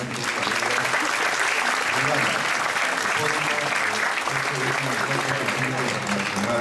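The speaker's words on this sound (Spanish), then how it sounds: "Lo recibimos con un fuerte aplauso" Loud, sustained applause from a conference audience in Lima welcoming a speaker on science and technology policy, a dense steady clatter of clapping with faint voices mixed in throughout.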